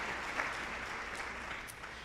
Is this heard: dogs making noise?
no